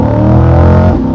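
Stock 755-horsepower Chevrolet Corvette ZR1 engine accelerating, a loud, deep, sustained roar with rising harmonic tone, heard close with no talking.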